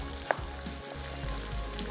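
Tomatoes fry in a pan for frontier chicken masala, giving a steady close sizzle with a brief clink of stirring near the start.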